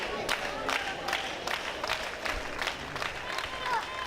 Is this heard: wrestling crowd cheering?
yes